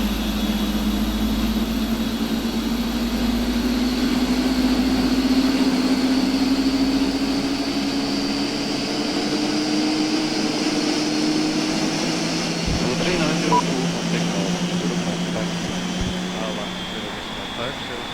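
Boeing 747 engines three and four spin up on the ground at Munich, a rising turbine whine over a steady rumbling roar, heard from inside the aircraft with constant cabin noise throughout.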